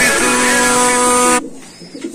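Big-size Rain pigeons cooing loudly close up in a continuous rolling call that cuts off abruptly, leaving quieter ambient noise.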